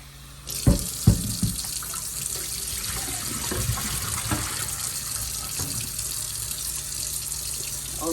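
Tap water runs steadily into a sink while homemade butter is rinsed beneath it, with a few knocks and splashes near the start and a constant close hiss throughout.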